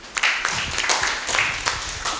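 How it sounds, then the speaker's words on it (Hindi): An audience at a study camp session claps together with a dense, sustained patter of many hands, loud and close. Scattered sharper claps stand out within the steady wash for about two seconds. "ताली तो हो ही जाए"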